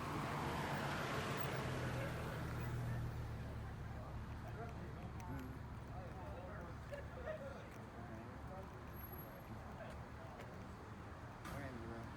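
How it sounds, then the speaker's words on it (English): A car on a road draws near, its tyre and engine noise loudest at first and then easing into a low roadway hum, with murmured voices in the background. "This car is coming this way."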